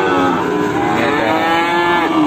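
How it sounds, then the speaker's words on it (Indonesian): A Simmental bull calf at a cattle sale in Kebumen gives one long, loud, close moo that fills the whole moment, deep and sustained with a rising pitch toward the end. "ini salah satu sapi dari mas Fajar yang sedang diminati oleh salah satu pembeli"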